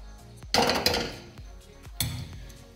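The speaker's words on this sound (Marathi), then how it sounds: "मस्त आवाज येत आहे, कडक अशी झालेली आहे डाळ" Dry roasted moong dal grains rattle and clatter against a metal pan in a few quick bursts, close and fairly loud.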